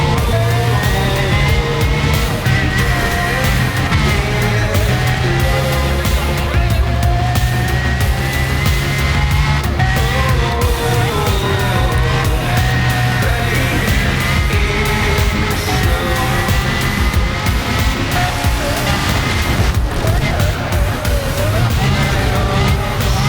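A Pagani supercar races at full throttle in Need for Speed Undercover while chased by SUVs, its loud, steady engine whine rising and falling with gear changes and occasional tire squeal.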